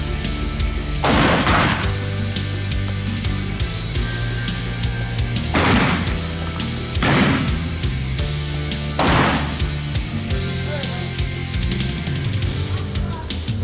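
Gunshots fired at bugs, four loud sharp cracks spaced a few seconds apart, each with a brief echoing tail over a constant droning background.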